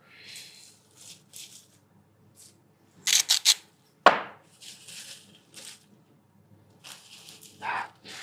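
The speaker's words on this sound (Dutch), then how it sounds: "gerispel van een zak chips" Freshly fried, salted homemade potato chips rustle in a bag in quiet, intermittent crinkly bursts, with one sharp louder crunch partway through.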